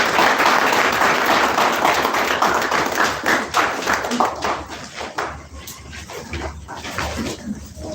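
Audience applause at a school creativity event unveiling, dense clapping that holds steady then thins toward the end, with scattered voices and murmurs mixed in.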